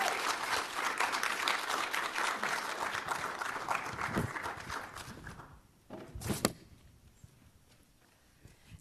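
A room of audience members at a university teach-in applauds a speaker, full and steady at first, then thinning out toward the end with a few isolated claps and soft shuffling.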